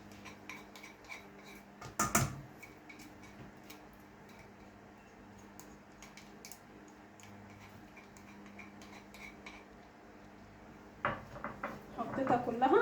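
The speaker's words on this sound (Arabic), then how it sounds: "هقلب بقى، اقلبها كويس جدا" A coleslaw mixture of shredded vegetables is stirred and tossed in a bowl, with soft scraping and clinking of a utensil against the dish, a louder clatter near the start and a busier burst of mixing toward the end.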